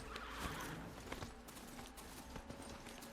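Hooves of a horse-like machine mount clip-clop steadily in the open world of the video game Horizon Zero Dawn on PS4, a quick, even walking rhythm over constant background ambience.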